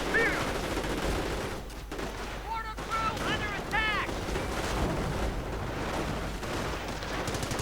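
Assault rifle fire crackles through a video game battle in dense overlapping bursts, with distant booms and explosions mixed into a busy, continuous combat soundscape.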